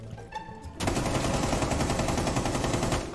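Rapid automatic gunfire in Rainbow Six erupts after a short lull and continues in a dense, relentless stream, loud and close, with a synthetic, game-like quality.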